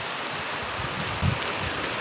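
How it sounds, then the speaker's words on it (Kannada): Heavy rain pours steadily in a broad, even hiss, close and continuous, with a brief louder splash or rumble about halfway through and no talking. "ಮಳೆ ನೋಡಿ ಹೆಂಗೆ ಕೊಚ್ಕೊಂಡು ಹೋಯ್ತೈತೆ"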